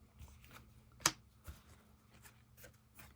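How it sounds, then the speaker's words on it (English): Yu-Gi-Oh cards are shuffled by hand close up, a quiet series of soft riffling flicks with one sharper snap, and no talk. "Let me give this a nice little shuffle."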